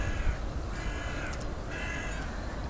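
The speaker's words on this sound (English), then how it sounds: "Crows over there in the tree." Crows cawing from a tree in a quiet garden, a few harsh calls in a row over steady outdoor background noise.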